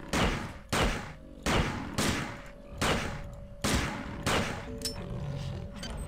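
Regular-ammo gunfire from System Shock 2 sounds as a string of about eight loud, evenly spaced shots, each roughly three-quarters of a second apart, with no talking.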